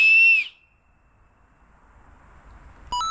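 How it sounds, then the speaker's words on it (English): A piercing, loud shrill whistle made by blowing between two fingers as an improvised emergency signal, one sustained blast that cuts off abruptly, followed by quiet and a brief tonal sound at the end. "That's the loudest whistle I've ever heard."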